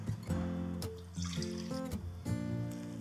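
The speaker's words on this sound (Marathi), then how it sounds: "हे पूर्ण पाणी आपण यातून काढून घ्यायचं." Soaked sago and barnyard millet having their water drained off, a short close trickle and splash of liquid pouring out in a few uneven bursts, fairly quiet, with no voices.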